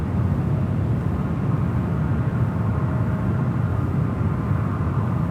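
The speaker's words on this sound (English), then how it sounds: "Also have China Airlines cargo flight 5346 heading to Atlanta, Georgia, 777 freighter." A China Airlines Boeing 777 freighter taxis out at San Francisco airport, heard from a distance as a steady low rumble with no clear changes and nobody speaking.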